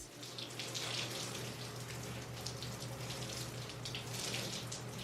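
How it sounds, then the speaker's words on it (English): Shower water runs steadily as hair is rinsed, a continuous hissing spray with a low hum beneath it, fairly faint and without talk. "as soon as I'm finished with my shower, I just rinse it out"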